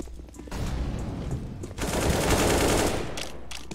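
A Nova pump shotgun fires in a video game, with loud, dense blasts crowding together over several seconds amid other in-game gunfire.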